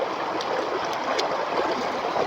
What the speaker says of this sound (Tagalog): running water pa